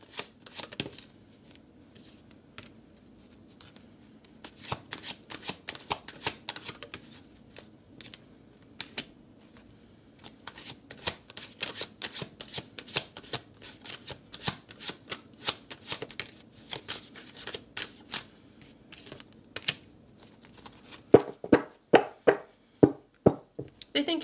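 Tarot deck being shuffled by hand, a long run of quick riffling card bursts and soft taps close up, growing denser and louder toward the end, with no talking.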